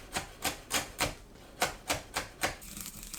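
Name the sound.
knife chopping Cheongyang chili peppers finely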